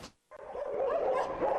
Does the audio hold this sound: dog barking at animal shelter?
yes